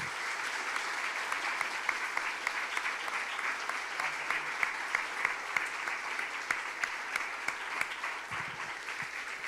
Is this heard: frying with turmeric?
no